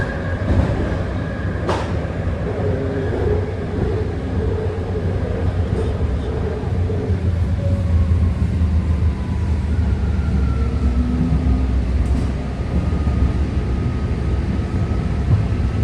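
A six-car Green Line BART train departs Balboa Park and runs toward Daly City, its steady low rumble and rolling wheel noise loud and continuous throughout, with a brief sharp squeal or click early on.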